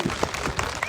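Applause from an audience at an outdoor political felicitation gathering in Shimla, a steady dense clapping that fills the whole moment at moderate loudness with no voices over it.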